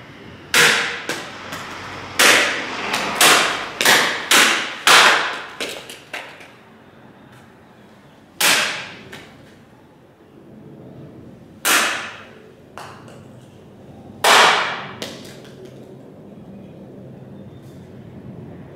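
Sharp whooshing wakizashi sword strikes land in a quick cluster, then a few more come spaced apart, each a crisp swish and snap against a quiet background; a wooden dowel is cut through.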